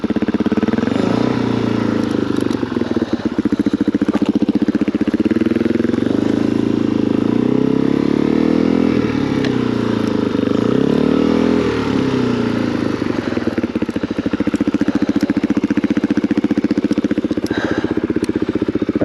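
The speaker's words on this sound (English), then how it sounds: "I revved up the engine there just to let the RPMs help balance the bike." Motorcycle engine revving loud and close while climbing a steep trail in Lead King Basin, a steady low drone rising and falling in pitch with several throttle surges, continuous throughout with no talk.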